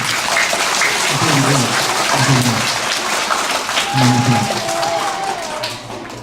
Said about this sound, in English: give Elena a round of applause